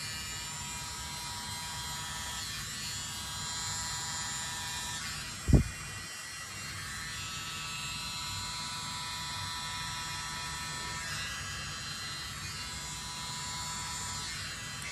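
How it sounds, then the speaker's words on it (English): An electric blower runs continuously with a steady, buzzing motor whine, close and fairly quiet, broken once by a brief thump midway. "So now I'm gonna get my blower and start blowing."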